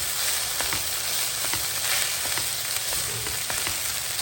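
Basmati onion rice being stirred and mixed in a hot frying pan, a steady close sizzle with soft repeated scraping strokes of the spoon running throughout, no voices.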